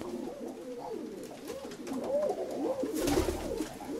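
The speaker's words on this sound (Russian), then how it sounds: "Это голуби." Domestic pigeons coo in a steady run of soft, rolling calls at close range, with handling noise rising near the end and no talk over them.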